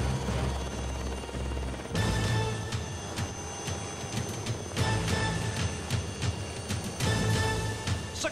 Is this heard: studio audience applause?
no